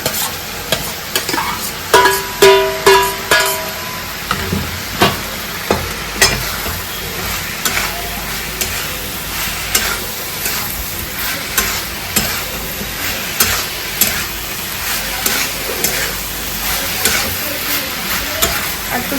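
Okra sautéing and being stirred in a hot pan, a continuous close sizzle broken by regular scraping strokes of a spatula, loud and alone with no talking.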